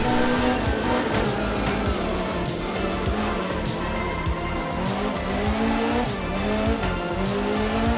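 A rally car in the video game Art of Rally skids with sustained tire squeal over a steady engine drone, loud and continuous throughout with the pitch shifting.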